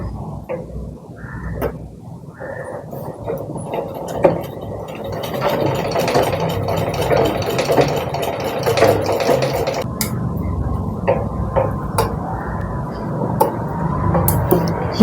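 A sewing machine stitches a cross strip onto a petticoat, running with a continuous close mechanical rattle and whir that varies in speed.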